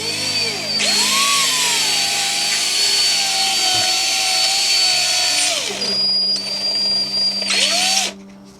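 A power drill whines loudly at high speed routing out a hole, running steadily for several seconds, briefly spinning down, then revving again before stopping.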